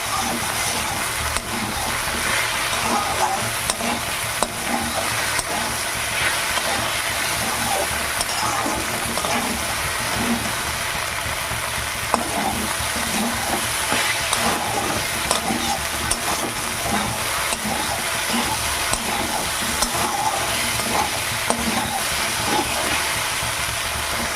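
Okra being stirred and fried in a pan on a gas stove, a steady close sizzle with continuous scraping and stirring throughout, no voices.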